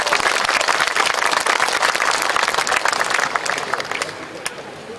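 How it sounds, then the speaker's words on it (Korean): A crowd applauds steadily, dense clapping filling the room for several seconds and tapering slightly toward the end. "뜨거운 박수 부탁드리겠습니다."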